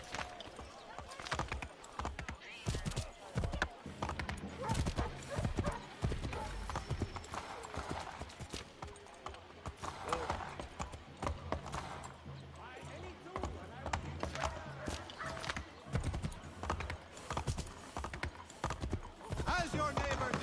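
Hooves clip-clop steadily and briskly from a horse ridden through the streets in the video game Assassin's Creed III Remastered, with a player's voice talking over the clopping throughout.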